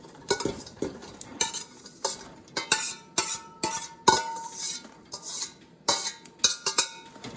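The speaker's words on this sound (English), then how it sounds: "Stir them up. Make sure the brine is well distributed on them." Green beans and cucumbers being stirred in hot brine in a pot, a spoon scraping and clinking against the pot in irregular bursts of close, fairly loud knocks and swishes, with no talk.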